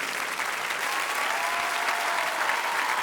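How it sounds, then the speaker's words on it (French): A crowd claps loudly and continuously for a few seconds at a televised show featuring child performers, a sustained dense applause with no talk over it. "On peut l'applaudir très très fort."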